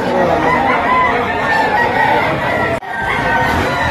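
Young gamecocks (stags) at a poultry auction crowing and clucking loudly and continuously up close, with a brief dip near the end.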